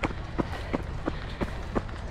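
Running footsteps in Nike Alphafly shoes thud on the ground in a steady rhythm of about seven strides, close and fairly loud, each landing giving a soft, springy slap.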